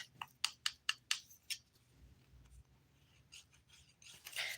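A 100/180 grit nail file rasps across fingernails in a burst of about six sharp, rhythmic strokes, then pauses before a few softer scrapes and a final rough flurry, all close and dry.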